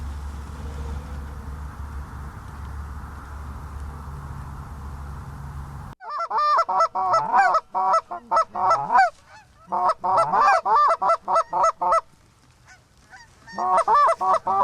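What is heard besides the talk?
geese honking while flying in during a goose hunt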